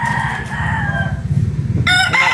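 Chickens and a rooster at a farm during a livestock vitamin session, with steady low clucking throughout and a loud, close rooster crow bursting in near the end.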